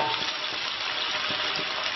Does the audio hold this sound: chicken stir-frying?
yes